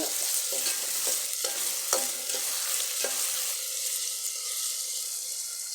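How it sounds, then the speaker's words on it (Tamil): Onions sauté in a pan for a papaya curry, crackling and sizzling steadily up close, with a utensil scraping and tapping the pan several times in the first few seconds before it settles into an even sizzle. "வெங்காயம் கொஞ்சம் வதங்கிருச்சு பாருங்க"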